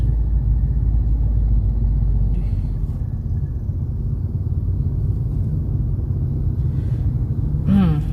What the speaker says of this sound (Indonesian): ini jadi macet ini